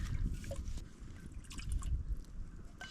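Water drips and trickles into a container while being collected for instant coffee outdoors, with irregular close splashes and a low rumbling background throughout.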